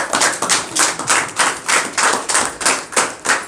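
A small congregation at a home prayer meeting claps in quick, even unison, loud and close, the rhythmic beats continuing steadily without any voices.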